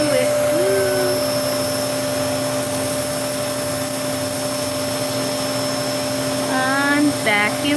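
Household vacuum cleaner running steadily and loudly nearby, a constant whine with a droning hum, while someone speaks briefly over it.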